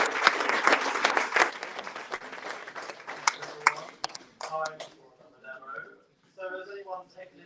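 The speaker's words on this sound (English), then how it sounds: "A huge round of applause" A crowd at a London Tech Week demo night applauds in a loud, sustained burst that thins and fades out, and a voice starts talking over the final moments.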